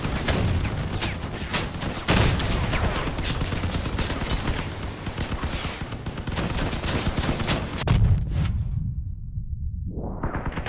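Rapid bursts of vehicle-mounted weapon fire in the PC combat game Crossout, loud and dense with whooshing projectiles and rumbling impacts, running continuously before cutting off abruptly near the end.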